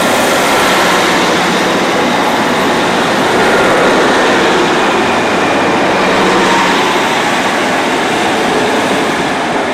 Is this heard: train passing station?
yes